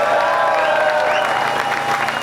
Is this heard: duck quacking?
no